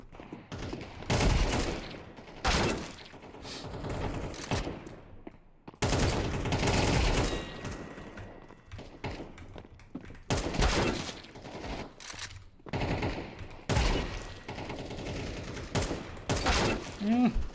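Gunfire in a Counter-Strike match, rapid bursts of rifle shots in clustered volleys with short gaps between exchanges, under intermittent commentary voices.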